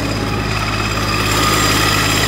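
A Hustler 3400 zero-turn mower's engine runs at a steady idle with the deck disengaged, a constant close-up mechanical drone and hum with no talking.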